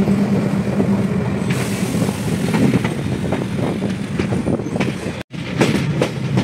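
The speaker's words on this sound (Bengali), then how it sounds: "5:06 ট্রেন নিউ তিনসুকিয়া জংশন ছেড়ে তার পরবর্তী গন্তব্য দুলিয়াজান রেলওয়ে স্টেশনের" The Lido–Guwahati Intercity Express pulls out of New Tinsukia Junction. A steady, loud rumble of rolling wagons runs throughout, with rhythmic clickety-clack wheel beats and a brief break near the end.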